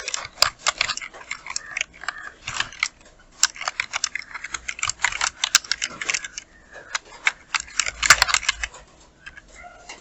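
Typing on a computer keyboard while designing a visiting card in Photoshop, with rapid clusters of crisp key clicks separated by short pauses, close and fairly loud, with no talking.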